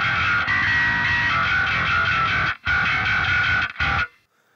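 Bass guitar filtered to just its high end through a high-pass loop on a metal pedalboard gives a loud, buzzy, distorted fizz, played in sustained bursts with two brief cuts before stopping abruptly, with no talking.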